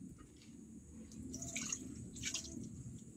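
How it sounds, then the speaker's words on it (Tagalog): Dishes are washed by hand at a home sink; quiet water dribbles and drips are punctuated by a few light clinks of plates, all faint and close, with no talking. "For today's video tayo ay maghuhugas ng plato."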